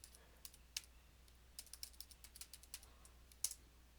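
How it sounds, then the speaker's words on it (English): A password being typed on a computer keyboard: soft, faint, irregular key clicks tapping alone in a quiet room, with one sharper press near the end. "I'm entering in a password"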